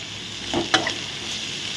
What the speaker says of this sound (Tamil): எல்லாத்தையும் போட்டு நல்லா வதக்குங்க நல்லா மிக்ஸ் பண்ணி